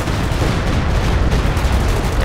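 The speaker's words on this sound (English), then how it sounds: "And then look, Stuka Subus is landing on here." A Stuka zu Fuss rocket barrage slams down in Company of Heroes 2, a dense, continuous roar of overlapping blasts and rumbling impacts that stays loud and close throughout.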